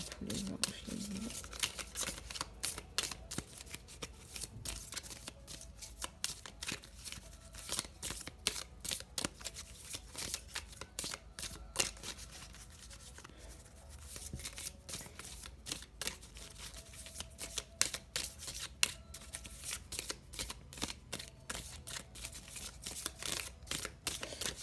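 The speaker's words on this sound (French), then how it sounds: "Voilà, donc on va tirer encore une carte, s'il vous plaît, à tous les anges, les guides." A deck of oracle cards is shuffled continuously, giving dense, crisp riffling and flicking close up for the whole stretch, with someone talking softly over it.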